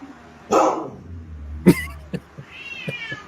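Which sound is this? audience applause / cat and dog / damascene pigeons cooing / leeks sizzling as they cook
cat and dog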